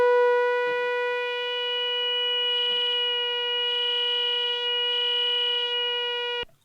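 Stylophone Gen X-1 synthesizer holding one sustained, buzzy tone with the filter resonance set high, giving a piercing whistle-like edge that swells in places before cutting off abruptly.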